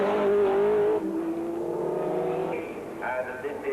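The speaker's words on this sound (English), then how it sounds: "The Volker Wiedler Chris Nissen Porsche rejoins after its stop, followed by the number 4 Jaguar." Porsche and Jaguar sports prototypes racing at Brands Hatch during the 1987 1000 km event, their engines droning and rising in pitch as they pass at moderate distance, heard under a commentator's voice.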